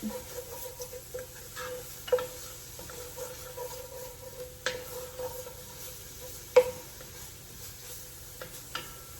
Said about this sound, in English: I'm going to add a little more olive oil to the pan over the garlic. And just give that a stir.